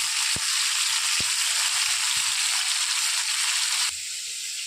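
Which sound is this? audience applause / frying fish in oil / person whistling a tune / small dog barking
frying fish in oil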